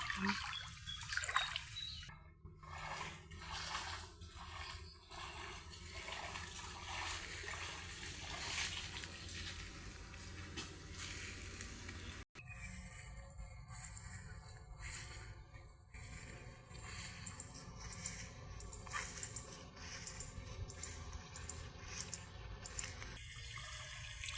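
Faint, steady trickle of water in a small creek outdoors, soft continuous babbling with occasional nearby rustles and thumps.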